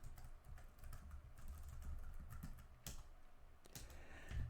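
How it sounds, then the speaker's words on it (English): Quiet computer keyboard typing, a run of soft, uneven key clicks with a few sharper strikes, close and alone. "I'm typing"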